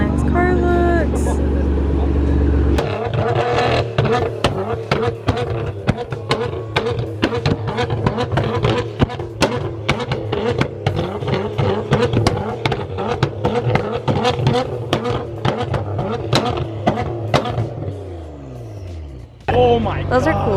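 A Nissan GT-R revs hard with its exhaust popping and crackling in rapid bursts, a loud, near, sustained roar full of sharp bangs, ending with a brief drop in the engine note.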